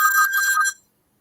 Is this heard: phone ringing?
yes